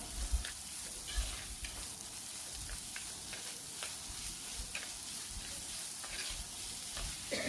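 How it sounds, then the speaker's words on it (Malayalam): Onions sauté with salt in a pan for a mackerel fish curry, a soft continuous sizzle broken by repeated light taps and scrapes of a spoon stirring. "നല്ല രീതിയിലൊന്ന് ഇളക്കി വഴറ്റിയെടുക്കാം"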